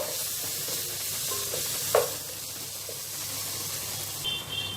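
Coriander powder and biryani masala are stirred in a sizzling pan for egg biryani, a steady hiss with one clear scrape of the spoon midway, close and unaccompanied by speech.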